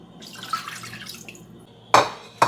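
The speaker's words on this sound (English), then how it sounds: "Next, we are going to add water." Water runs steadily into a cooking pot that holds a pork bone for a mushroom pork stew, a soft continuous pour over low kitchen hum, ending in two brief louder splashes or clatters.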